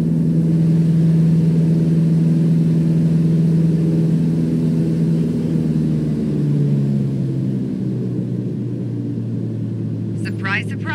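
A propeller aircraft engine in the Microsoft Flight Simulator video game drones loud and steady, then its pitch drops and it winds down as the throttle is cut to idle, continuing at a lower hum; a brief voice sounds near the end.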